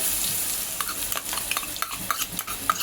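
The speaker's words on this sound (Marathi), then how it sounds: "अद्रक आणि लसूण चांगलं परतून घेऊया" Ginger-garlic paste being sautéed in hot oil with whole spices for chicken biryani: a close, bright sizzle with repeated scraping stir strokes scattered through it, no voices.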